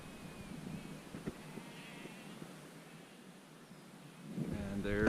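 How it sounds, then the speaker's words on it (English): Sheep bleating on a hillside, faint and distant under steady wind, with a closer, louder bleat near the end. "We're being serenaded by the sheep."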